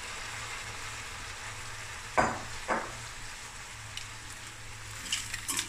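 Mussels frying in a spiced pan give a steady, faint sizzle, broken by two louder bursts of crackling as they go in, with a few light clinks near the end.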